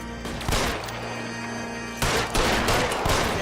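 Gunfire in the video game L.A. Noire: bursts of shots over a continuous loud backdrop, with heavier volleys after about two seconds, close and dense.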